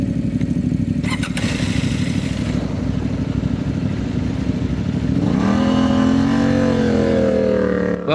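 A CFMOTO 800MT Explore adventure motorcycle with a KTM engine idles steadily up close, then revs up and holds a higher engine note before easing off, with no voices over it.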